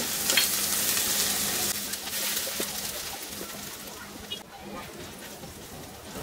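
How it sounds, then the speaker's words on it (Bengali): Chopped ginger fries in a pan with a steady, close sizzle that lasts the whole stretch, loud at first and easing slightly toward the end. "দিয়ে এইটাকে একটু ভেজে নিব আমি কয়েক সেকেন্ড মাত্র।"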